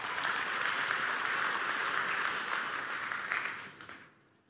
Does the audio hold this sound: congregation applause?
yes